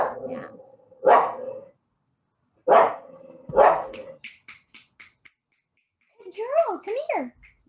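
A dog barks at someone on the stairs in a home: three loud, sharp barks spaced about a second apart, then a run of short quieter yips, followed by a person talking.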